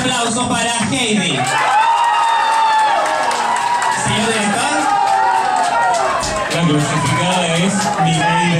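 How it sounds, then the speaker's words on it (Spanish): Crowd cheering and applauding for a contestant at a televised qualifying round, sustained loud hubbub with whoops and scattered voices layered over the clapping. "Y aplausos para Heidi."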